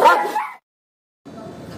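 A Fila Brasileiro dog gives a short burst of loud, close barks, then falls silent before a softer, noisier stretch of sound follows.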